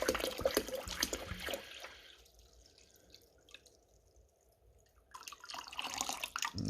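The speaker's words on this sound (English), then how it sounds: "fill that up with water" Distilled water pours into a jug from a gallon container, a gurgling, splashing stream that thins to a quiet trickle in the middle before pouring strongly again.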